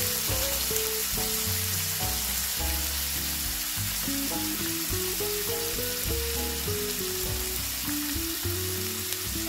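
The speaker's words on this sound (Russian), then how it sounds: "все обжариваем" Chopped onion sizzles in hot oil in a frying pan, a loud, continuous, even crackle heard close up with no voices.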